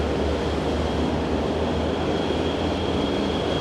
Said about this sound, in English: There's a Dreamliner starting up.